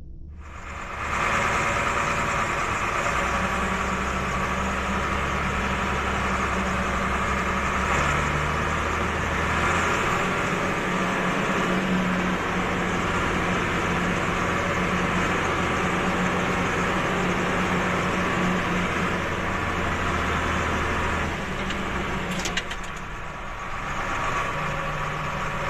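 Farm tractor engine in Tucumán, Argentina, idling with a steady low rumble and vibration close to the microphone, running continuously and dipping briefly near the end.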